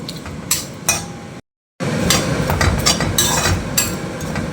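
Onions and salted boiled green peas being sautéed in a pan, with a spoon scraping and clinking against the metal in steady, busy strokes and a brief gap of silence partway through.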